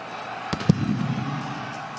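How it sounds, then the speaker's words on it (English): Stadium cannons fire at a college football game between South Dakota State and Montana State, two sharp booms in quick succession over crowd noise and a broadcast voice. "The cannons go off"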